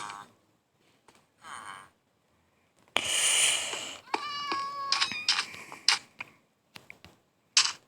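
A tamed cat in Minecraft gives a few short, high meows in separate bursts with quiet gaps between them, close and clear.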